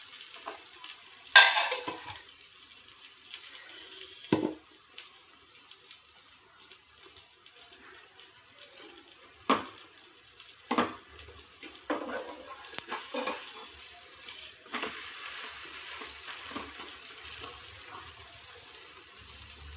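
Bobbatlu, also called bakshalu or polelu, cooking in ghee on a pan make a quiet, low sizzle, broken by a few sharp clinks and scrapes of a utensil against the pan.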